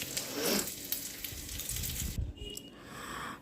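Dry fruits frying in ghee in a pan, a soft sizzle with light stirring and scraping noises up close, the texture shifting briefly near the end, no talking.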